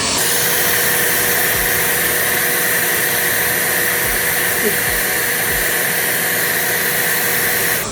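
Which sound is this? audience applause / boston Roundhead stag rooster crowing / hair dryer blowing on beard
hair dryer blowing on beard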